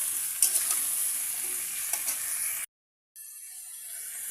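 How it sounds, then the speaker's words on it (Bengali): Potatoes frying and being stirred in a pan, a steady bright sizzle with a few scraping stirs, briefly cut to silence before the sizzle resumes. "আলুগুলো দিয়ে দিচ্ছি, দিয়ে এবার নাড়বো।"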